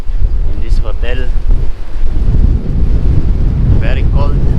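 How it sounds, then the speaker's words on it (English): Strong wind on the Gold Coast, Australia, buffets the microphone with a heavy, continuous roar, while voices speak briefly over it. "Very cold, I mean very windy."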